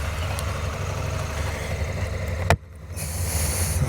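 A Honda Africa Twin Adventure Sports DCT motorcycle idles with a steady, even engine hum. A sharp click cuts it briefly near the middle, and then the idle carries on.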